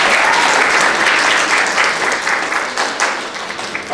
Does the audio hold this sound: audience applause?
yes